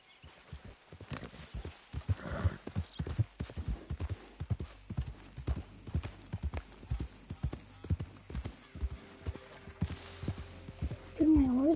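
Horse hooves clip-clop steadily at a walk across the whole stretch in Red Dead Redemption 2, the even beats close and clear, with a few voices speaking over them and a brief whinny-like tone near the end.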